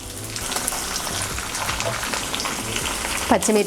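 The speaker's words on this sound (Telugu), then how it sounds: "మనకు ఆ అల్లం ముక్కలు అవి నెయ్యిలో వేగిపోయి" Ginger pieces fry in ghee with a close, continuous crackling sizzle, brief spoon clinks, and a voice at the end.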